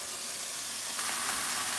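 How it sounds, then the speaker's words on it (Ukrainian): Pork chops fry in a hot pan with a steady, close sizzling hiss that rises briefly as the meat settles, no voices present. "смажемо м'ясо"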